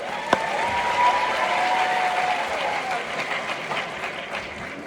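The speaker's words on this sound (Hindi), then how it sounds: "ताली सर के लिए, ताली बजा दीजिए." An audience at a short film festival held at a people's university claps in a dense, steady wash of applause that stays fairly even for several seconds, with faint voices and a thin whistle-like tone mixed in.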